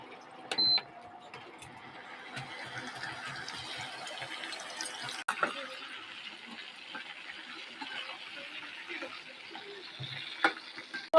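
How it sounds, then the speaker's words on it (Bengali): Chicken pieces frying in hot white oil in a kitchen pan, a soft steady sizzle and crackle with occasional clinks and stirring, fairly quiet and close throughout. "এবার আমি চিকেনটা ডালবো, ফ্রাই করব"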